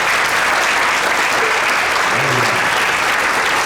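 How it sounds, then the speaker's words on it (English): Loud, dense applause from a school concert audience for the sixth grade percussion section, sustained and unbroken, with faint voices murmuring underneath. "Round of applause for them in the back."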